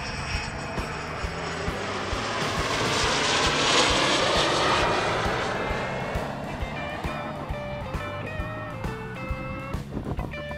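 An airplane passes overhead, its engine drone swelling to a peak midway and then slowly fading, steady and moderately loud with no one speaking.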